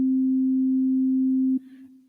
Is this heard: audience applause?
no